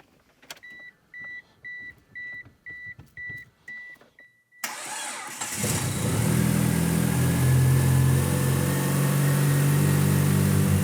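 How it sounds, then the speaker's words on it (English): Several electronic chimes from an Eagle Talon sound inside the car, then the engine cranks and fires for the first time and settles into a loud, steady, rumbling run. "First start of the Talon under my hands."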